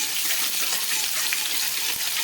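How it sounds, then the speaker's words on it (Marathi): Crushed garlic sizzles loudly in a pan of mixed vegetables, a dense, constant hiss of frying oil that stays close and steady throughout, with no talking. "मी ठेचून घेतलेला लसण घालणार आहे"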